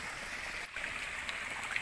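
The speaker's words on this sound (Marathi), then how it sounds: "पाटाचं पाणी भरपूर भरपूर असं लांब येतं" Irrigation channel water flowing through Konkan rice paddies during planting, a steady, close rushing and trickling stream with small splashes, fairly quiet and continuous, no voices.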